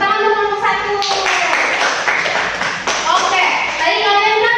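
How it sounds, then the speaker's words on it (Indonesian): A sixth-grade class claps for group 1 in a classroom, a steady burst of close, dense applause lasting a few seconds, with children's voices mixed in. "Tepuk tangan untuk kelompok 1."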